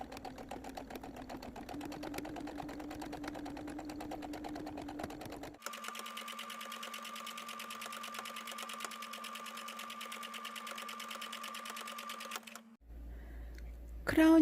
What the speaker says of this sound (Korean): 센터 크라운하고 밴드 부분 겉과 겉을 마주보고 윗선만 시접 1cm로 박음질 하겠습니다.